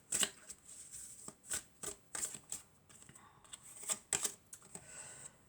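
Tarot cards are shuffled in a series of quick riffling bursts, crisp and close, with short pauses between them and no voices.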